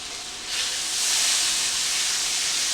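Potatoes frying in a skillet until crispy give off a steady, close hiss that swells after a moment and holds loud and even, with no talking.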